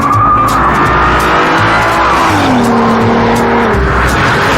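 A 3.2-litre V6 in an Audi TT, four-wheel drive, the same engine used in the hot Golf, rumbles and revs loudly in a continuous run, pitch rising and falling as it is driven hard with some tire noise.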